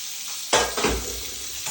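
Keema frying in a pan, a continuous close sizzle broken by a few louder stirring scrapes and clatters partway through, with no talking.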